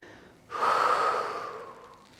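A single deep breath during a prenatal yoga session, a soft airy inhale swelling after a quiet moment and slowly fading, close and gentle with no talk.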